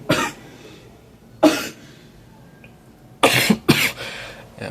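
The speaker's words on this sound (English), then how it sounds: "Yeah, cough that won't go away." Repeated harsh coughs up close, a couple of single bursts followed by a tight cluster of several coughs, with quiet gaps between.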